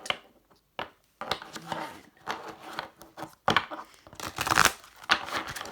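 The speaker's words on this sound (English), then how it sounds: "I split the deck to shuffle." A tarot card deck is split and shuffled close up, with papery riffling, rubbing and crinkling in bursts and short pauses between them.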